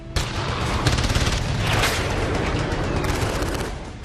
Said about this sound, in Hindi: 6 अलग अलग जगहों पर आतंकियों ने जमकर गोलियां बरसाई